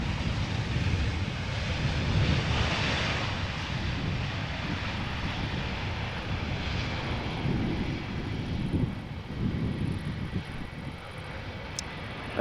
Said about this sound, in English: Speedbird A320 arriving from London Gatwick